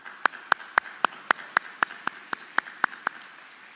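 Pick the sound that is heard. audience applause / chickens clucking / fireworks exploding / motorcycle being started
audience applause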